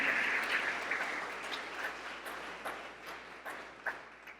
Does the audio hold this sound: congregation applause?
yes